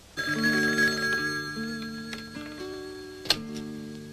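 A telephone rings with a steady electronic trill, sustained and fairly loud, followed by a brief click near the end.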